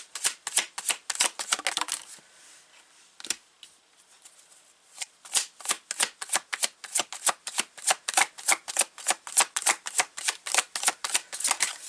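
A tarot card deck is riffled repeatedly in quick, crisp bursts of snapping cards, with a short pause before the rapid shuffling resumes, close and alone with no talk.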